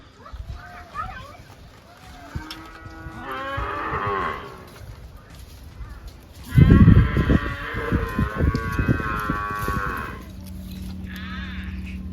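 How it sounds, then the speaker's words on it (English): Cattle moo loudly and repeatedly outside a caravan door in the morning, a cow with its calf nearby, with long drawn-out bellows, one especially close and powerful, while people talk in the background. "it's not every day that you get a cow outside your caravan door first thing in the morning."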